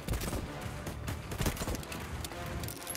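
Assault rifle fire in the Voidtrain game, a dense, continuous crackle of overlapping shots at close range, steady and loud across the whole stretch.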